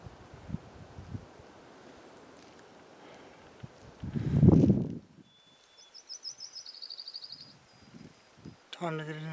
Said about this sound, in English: Listen to the birds for a little bit.